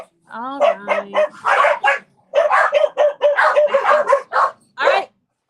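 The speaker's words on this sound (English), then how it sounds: "Stop barking." Small dog barking in a series of sharp yips and barks, close and fairly loud, in quick bursts with brief pauses indoors.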